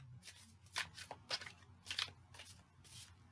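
Quick riffling bursts of a tarot deck being shuffled, several crisp flutters in a row, close and fairly quiet.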